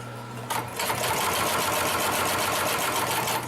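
A Consew 733R-5 heavy duty sewing machine stitches through several thick layers of material, a loud, close, rapid mechanical chatter that starts up after a brief pause and runs steadily.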